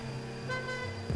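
A car horn from the racing game GTA V Online sounds as a steady tonal honk over engine hum, with a sharp burst of noise at the very end.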